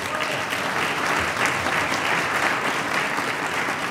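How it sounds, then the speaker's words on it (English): Audience applause at a Hartford Communities That Care 17th anniversary event, a dense, steady wash of clapping from a crowd that fills the room evenly for several seconds, with no voices over it. "I want to make sure we give Mr. Woods a round of applause"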